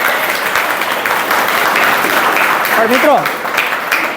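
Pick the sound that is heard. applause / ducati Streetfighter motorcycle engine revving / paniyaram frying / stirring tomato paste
applause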